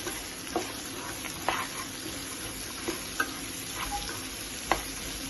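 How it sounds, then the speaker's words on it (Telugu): Grated beetroot and carrot frying in a pan, a soft continuous sizzle punctuated by occasional spoon scrapes and taps every second or so, close but fairly quiet, without talking. "బీట్రూట్ ఇవన్నీ ఇట్లా పోసేసుకున్నాం దీనిలో. ఇప్పుడు ఇవి ఫ్రై చేసుకున్నామండి"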